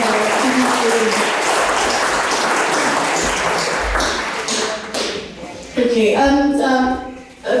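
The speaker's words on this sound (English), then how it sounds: "So round of applause for the girls here and the boys here" An audience applauds schoolchildren at a Sister Nivedita statue unveiling programme, a dense, loud burst of clapping that thins out toward the end, where a voice starts speaking over the fading claps.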